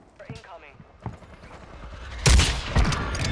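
Gunfire from a gun in the video game WarZ bursts out as a loud rapid volley in the second half, following quieter clicks and thuds, with people talking over it.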